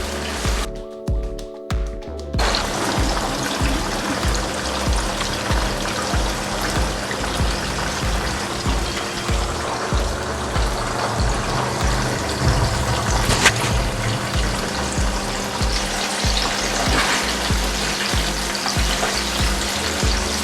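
Chicken fries in a karahi for a Peshawari charsi chicken karahi, giving a loud, continuous sizzle close up with brief scraping and stirring near the start.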